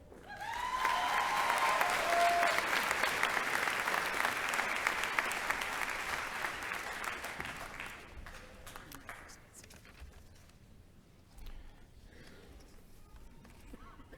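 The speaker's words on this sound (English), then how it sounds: "Wonderful round of applause for our new doctors at Alfred University" Broad applause fills a university graduation hall for newly hooded doctors, loud and sustained for several seconds before thinning to scattered claps and room noise, with a brief voice rising over it.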